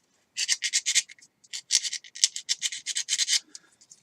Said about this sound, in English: I'm going to kind of run the sandpaper in here to clean off these burrs